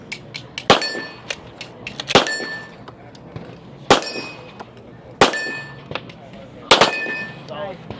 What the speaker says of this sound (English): This will be her last 5 shots of pistol.